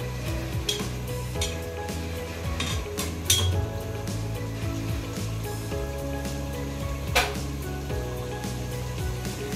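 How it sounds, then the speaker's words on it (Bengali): Fish sautéing in a pan gives a low, steady sizzle under the repeated clinks and scrapes of a utensil against the pan, with a few sharper knocks standing out. "এখন এটাকে একটু কষাবো, কষিয়ে তারপর আবার সবজিটা দিচ্ছি"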